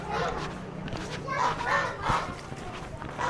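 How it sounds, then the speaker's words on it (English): Ducks by a river at the Mahakumbh gathering in Prayagraj, India, call in a few nasal quacking bursts over a busy outdoor background, close by, with people talking nearby. "Guys, look at these ducks."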